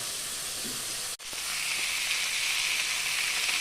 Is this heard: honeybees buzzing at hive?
no